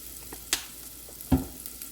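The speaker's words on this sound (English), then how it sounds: "before the sesame seed oil start to burn, I'm gonna add my wash rice" Sesame oil sizzles in a pan while cooking Hainanese chicken rice, a soft steady frying hiss broken by two sharp crackles close by.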